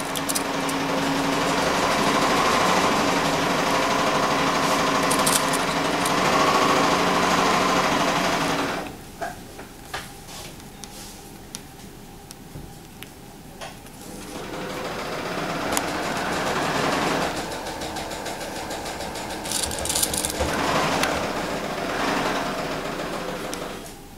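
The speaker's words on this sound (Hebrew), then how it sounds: "מסמנת סנטימטר והולכת לתפור למקום." A sewing machine stitches a seam on elastic-waist trousers in long, steady runs, stopping for several seconds midway before whirring on again, fairly close and loud.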